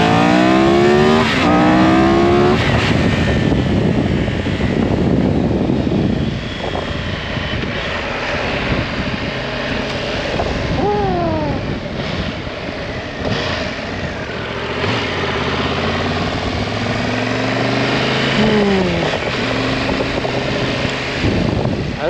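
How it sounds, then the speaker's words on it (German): A Triumph Tiger 1200 GT motorcycle engine revs and accelerates with rising and falling pitch sweeps, loud and close, under heavy wind rush. "Also der Motor-Sound war gerade echt geil."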